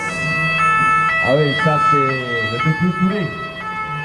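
Ambulance siren from the regional hospital centre of Tambacounda, wailing loud and close in a steady rising and falling tone during an independence day parade, with someone speaking briefly over it.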